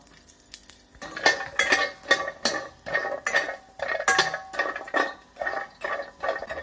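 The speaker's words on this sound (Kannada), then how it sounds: "ಈಗ ವಾಲ್ನಟ್ ಹಾಕಂತಿದೀನಿ ಸ್ವಲ್ಪ ತುಪ್ಪ" Walnuts stirred with a spoon in a pan of ghee, giving a run of repeated metallic scrapes and clinks against the pan in an uneven rhythm, close and fairly clear with no talk.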